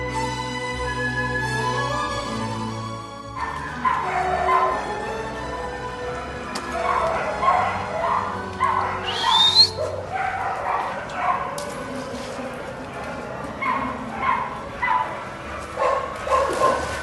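A dog gives repeated yips, barks and whimpers at close range, in uneven bursts over a stretch of about fifteen seconds, following a few seconds of music at the start.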